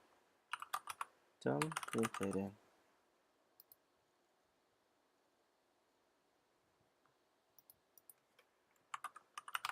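Java code is typed on a computer keyboard in short, close clicking bursts of keystrokes separated by quiet gaps, with a brief stretch of someone talking early on.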